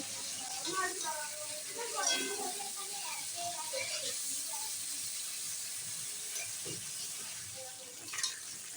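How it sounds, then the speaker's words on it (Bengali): Chicken sizzles and hisses in hot oil in a pan, a steady broadband frying crackle that runs throughout while a voice talks over it for the first few seconds. "তো এখানে চিকেনটা ফ্রাই হচ্ছে।"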